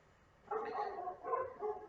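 Two Aussiedoodle dogs bark from downstairs in a house, two short muffled bursts of barking heard at a distance, fairly faint.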